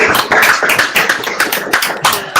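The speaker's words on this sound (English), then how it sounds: "I would like to hear everyone giving a big round of applause" Online conference audience delivers a round of applause through open microphones, a scattered, close, loud patter of individual claps and taps with uneven rhythm.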